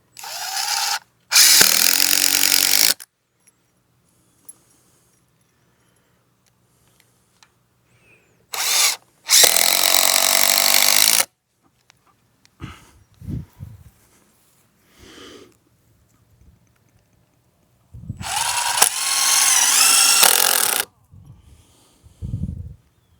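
A power drill drives screws into a wooden walkway beam built on bare ground, in three loud, sustained bursts of a few seconds each, separated by quieter gaps with faint handling clatter.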